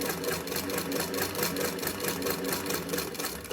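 A vintage sewing machine stitches through fabric, running in a steady, fast mechanical whir with a rapid needle patter, close by and continuous throughout, with no voices.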